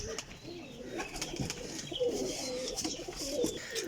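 Pigeons coo softly in a loft among show pigeons, several overlapping throaty calls repeating in an irregular rhythm, with faint chirps and background rustle.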